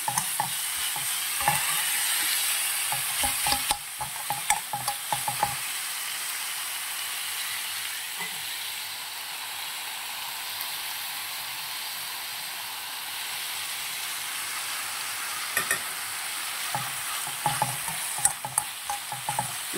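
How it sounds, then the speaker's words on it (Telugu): Onions fry with salt and turmeric while being cooked for a drumstick leaf powder curry, giving a loud continuous sizzle and hiss with occasional stirring scrapes near the start and end. "కొంచెం సాల్ట్, కొంచెం పసుపు వేసుకున్నానండి. ఇది కొంచెం పచ్చి వాసన పోయేంత వరకు ఫ్రై చేసుకోవాలి ఆనియన్స్."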